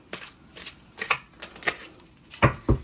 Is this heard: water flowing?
no